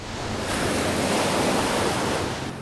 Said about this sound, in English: damaging and frightening storm surges like this are likely to increase